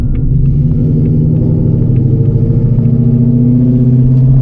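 A supercharged 900 hp Whipple S650 Mustang drives along with a loud, steady, deep engine rumble and throbbing exhaust drone filling the cabin, the low growl holding constant with a slight rising tone throughout.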